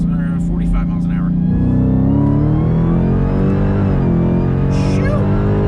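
A 1,000-horsepower Dodge Challenger Hellcat Redeye pulls hard in third gear from about 45 mph, its loud engine note climbing steadily under continuous wind and road roar, with people talking over it.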